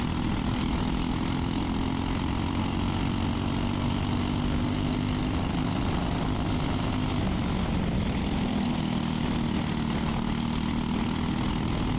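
A 206 racing kart engine droning steadily during an Indy karting race, heard from on board as a loud, unbroken buzzing roar that shifts slightly in pitch, with no talking.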